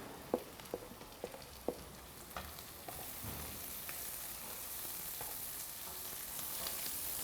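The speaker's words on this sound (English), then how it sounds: "Now I'm going to add the green capsicum." Green capsicum sizzling with sautéed onions in a pan, a quiet, steady frying hiss with a few sharp utensil clicks near the start.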